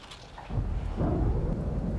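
Thunderstorm with a deep rumble of thunder swelling in abruptly and rolling on, heavy and loud over steady rain, no voices.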